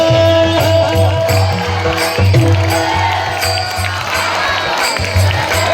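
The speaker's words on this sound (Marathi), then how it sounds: "आता ही टाळी चालू ठेवायची बघा" An audience at a Marathi kirtan in Bhalegaon Bazar claps in a steady rhythm, the claps mixed with loud devotional music and voices.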